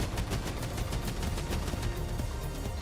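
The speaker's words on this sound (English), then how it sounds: "we'll actually just support him by shooting down the missiles" Rapid gunfire from 13 Sentinels: Aegis Rim mech combat, a dense continuous stream of shots firing at incoming missiles, steady and loud throughout with no talking.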